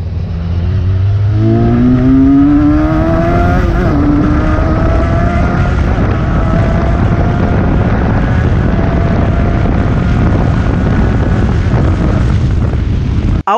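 A motorcycle engine revs up through rising gears and then holds a loud steady roar, buffeted by heavy wind noise, close and continuous.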